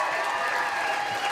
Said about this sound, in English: Give yourself a big round of applause, please.